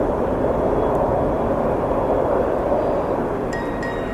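An Airbus airliner roars past at Atlanta's Hartsfield airport on a cold, windy day, a loud steady jet rumble holding strong throughout, with faint whining tones creeping in near the end.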